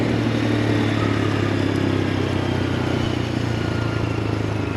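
A Honda Grom 125 motorcycle rides along with a steady, buzzing single-cylinder drone and low rumble, holding a fairly constant pitch over a few seconds of continuous wind and engine noise.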